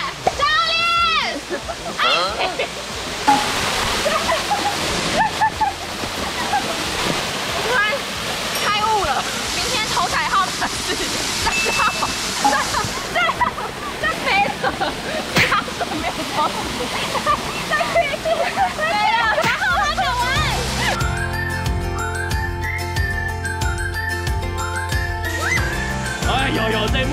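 Waterfall in a canyon pouring as a steady, loud rushing roar with splashing water, continuous throughout, with people talking over it; a different steady tonal background enters near the end.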